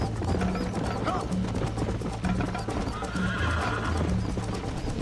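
In the video game Red Dead Redemption, a horse neighs and whinnies while its hooves clip-clop steadily, loud and close over busy game sound, with some speech mixed in.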